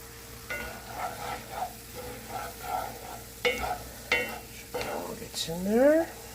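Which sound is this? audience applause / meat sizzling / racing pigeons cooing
meat sizzling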